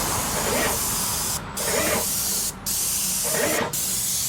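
A Graco GX 19 cordless paint sprayer fires three short, close hissing bursts with brief pauses between them while painting in a house being readied for rent.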